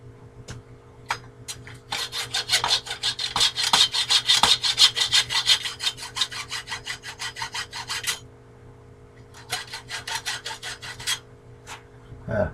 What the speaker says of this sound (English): So what we're going to do is flip it over and cut it from this side